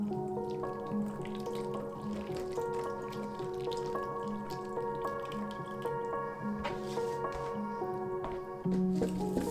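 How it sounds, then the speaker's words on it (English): Water straining and dripping out of blended recycled paper pulp into a box, with wet trickles and soft squishy drips over a steady background hum. "I then strain most of the water out of the pulp and collect it all in a box."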